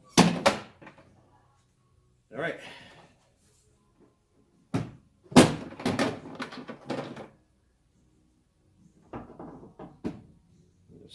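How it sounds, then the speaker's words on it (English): A swing case tool box for a pickup truck is slammed into place, giving several sharp, loud thunks and knocks spread across the clip with silent gaps between them, along with brief handling clatter and a short spoken remark. "So I think slamming it into place will work."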